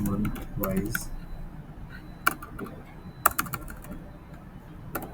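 Fingers type on a computer keyboard while entering spreadsheet data, giving sparse, sharp key clicks in small bursts, with a voice heard near the start.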